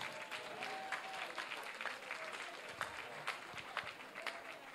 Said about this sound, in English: I want you to specially clap for these people who are up on their feet.